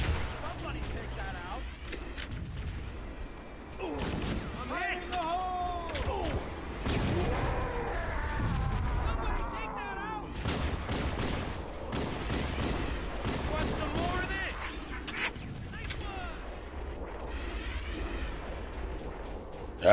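Turret gunfire in a video game, bursts of shots and impacts scattered through the stretch while someone talks excitedly over them.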